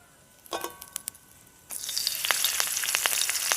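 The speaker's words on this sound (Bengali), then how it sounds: "এরপর ফোড়নে দিয়ে দেবো কালো সর্ষে হাফ চামচ মতো আর সাথে দিয়ে দেবো কয়েকটা কারি পাতা" Black mustard seeds and curry leaves hit hot white oil for tempering, first a few sharp pops and crackles, then a loud, steady sizzle that fills the rest, close by with no talking.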